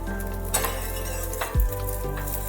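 Egg and potato tikki frying in a little oil in a pan, sizzling steadily while being flipped, with a couple of utensil scrapes and a soft clink against the pan.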